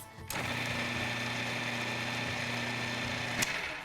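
A food processor whirls fresh spearmint (nana) leaves into a fine mince, a steady close motor whine running unbroken for about three seconds before cutting off abruptly.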